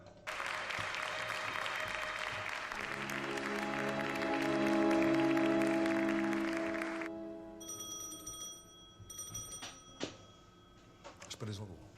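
Theatre audience applauding, a full crowd clapping loudly under a sustained musical tone for several seconds before it cuts off, followed by sparse bell-like chimes and quieter sounds.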